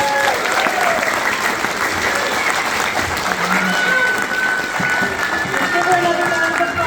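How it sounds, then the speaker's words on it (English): An audience applauds steadily throughout, a dense wash of many hands clapping in a hall, loud and sustained without letup. "Let's give her another round of applause."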